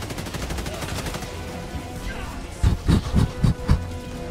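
Helldivers 2 gameplay with a burst of gunfire from an enemy firing squad: a run of about six loud, close shots around the final two seconds, over a busy layer of battle noise.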